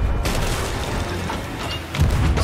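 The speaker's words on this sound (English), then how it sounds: "And the cannons." Ship cannons firing during a naval battle in Sea of Thieves, heard as a dense, continuous rumble of booming blasts with a heavier burst near the end and no clear speech.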